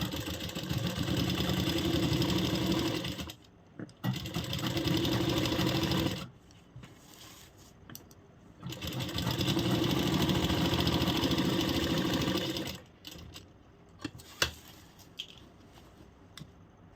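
A sewing machine stitches a Banarasi straight kurti suit in two long, loud runs of steady motor whir, each several seconds, separated by pauses with light clicks and fabric handling.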